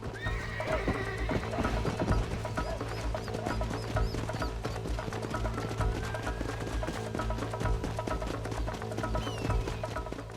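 A horse whinnies over steady clip-clopping hooves in Red Dead Redemption, set against a dense, continuous backdrop of game music and ambience.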